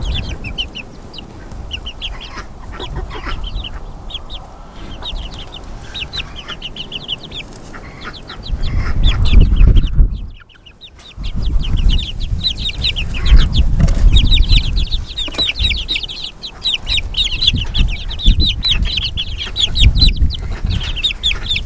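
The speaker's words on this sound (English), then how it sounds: "they're all game chicks" Young game chicks cheep and cluck continuously, close by, as a busy overlapping chorus of high peeps. Low rustling and handling noise sit underneath, with a brief quiet dip midway and no talking.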